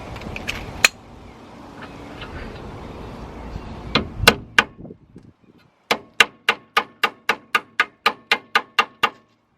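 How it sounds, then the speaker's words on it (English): Sharp metallic hammer blows ring out as a 17 mm socket is hammered onto an outer tie rod end bolt, a few scattered strikes and then a rapid, even run of about a dozen loud clanks. "We're gonna hammer this on the bolt"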